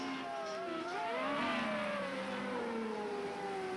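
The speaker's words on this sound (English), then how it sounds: "As you can just hear him just light up the rear tyres under acceleration" Formula Renault race car pulling hard out of a slow corner at Zhuhai, its rear tyres spinning under acceleration; a loud, close engine note climbs and sweeps in pitch, heard alone without talk.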